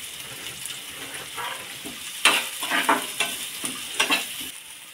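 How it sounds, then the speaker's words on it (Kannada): Bombay rava semolina fries in oil for upma, giving a soft, steady sizzle with intermittent scraping and stirring strokes of a spoon in the pan, close and moderately quiet. "ಇದು ಈಗ ಫ್ರೈ ಆಗಲಿ ಎಲ್ಲ ಕೆಂಪು ಹಿಂಗೆ ಫ್ರೈ ಮಾಡಬೇಕು"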